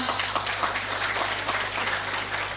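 An audience of young people at a Buddhist Dhamma talk event applauds, a steady wash of many hands clapping at moderate volume for a few seconds, with a low steady hum beneath.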